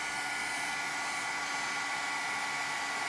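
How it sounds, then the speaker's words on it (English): A heat tool blows on resin coating a tumbler, giving a steady whirring rush of hot air that continues unbroken, close and fairly loud. "So now we're gonna take our heat tool and"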